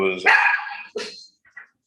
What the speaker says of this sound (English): has a dog that barks.